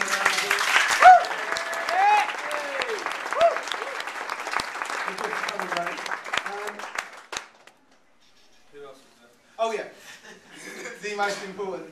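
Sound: wedding guests applauding

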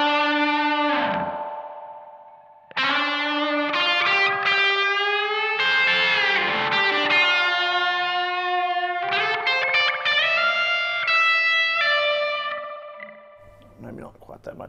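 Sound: electric guitar through Analog Alien Rumble Seat pedal with delay

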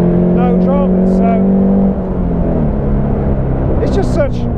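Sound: Caterham 310 S car engine driving in third gear

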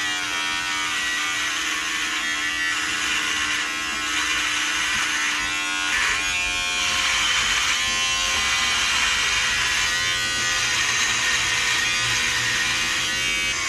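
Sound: electric shaver shaving a beard

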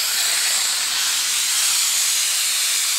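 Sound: pneumatic suction machine draining power steering fluid

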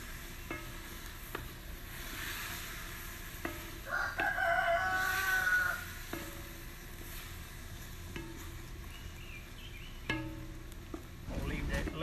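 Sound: young rooster crowing

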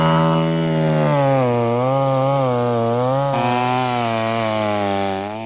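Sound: chainsaw cutting into tree roots

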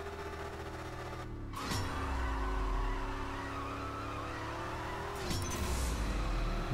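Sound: car wheel spin on launch in CSR 2 video game

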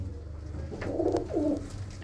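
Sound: pigeons cooing

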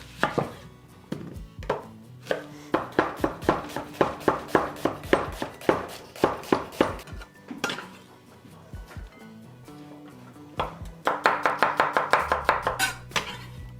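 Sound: chopping a red onion

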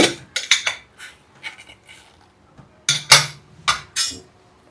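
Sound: opening a pressure cooker lid

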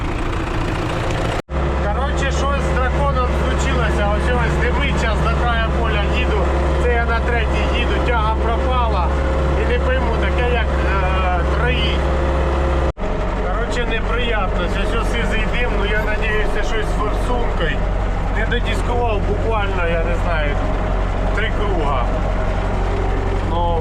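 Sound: diesel engine running rough, one cylinder failing, stuck injector

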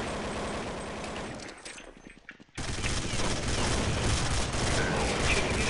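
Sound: gunfire in the video game Counter-Strike 1.6

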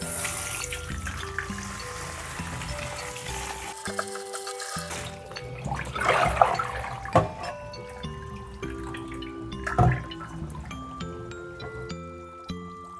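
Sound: washing bananas in water before boiling

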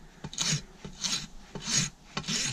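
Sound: farrier rasp filing a horse's hoof

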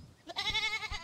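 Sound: goat bleating in the video game Airport Renovator

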